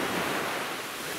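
Sea waves wash steadily at Cleopatra Beach on a June day, a continuous broadband surf roar, close and even with no breaks and no voices.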